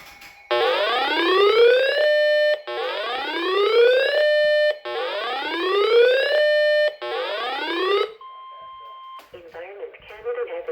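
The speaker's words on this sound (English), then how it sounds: "sometimes I'll have one of my weather radios give me an alert like this" A weather radio sounds a loud emergency alert, four identical rising sweeping siren-like tones in quick succession, then a steady single beep and the start of a broadcast voice.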